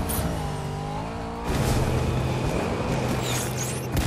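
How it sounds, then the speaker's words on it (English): A car driving in Fortnite, its engine tone rising then settling into a steady drone, with a tire-skid texture and a brief whooshing pass near the end. "They're probably in a car."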